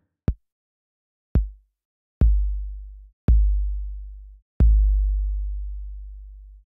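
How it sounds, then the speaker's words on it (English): Five synthesized 808 bass drum hits sound alone, each booming tone ringing out longer than the last as the decay knob is turned up, from a short thud to a long sustained tail. "And as you change that decay, you can lengthen the envelope and let the sound be a little more resonant and ring out a little bit more."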